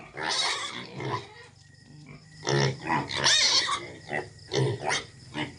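Pigs at feeding time on a farm, grunting and squealing in several loud, close bursts with short pauses between them.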